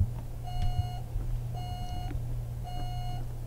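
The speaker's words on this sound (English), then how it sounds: "She's like angry at my alarm clock." An alarm clock rings in The Sims 2, giving three evenly spaced electronic beeping bursts, each about half a second long, over a steady low hum, with no talk.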